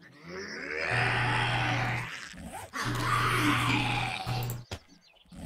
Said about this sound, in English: What is growling over here?